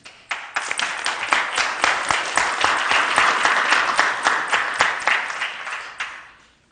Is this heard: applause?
yes